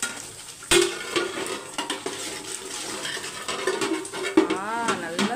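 Hot oil spattering and sizzling in a pan of chicken biryani masala as it is stirred, with scraping utensil strokes over a steady fry and a brief voice in the background.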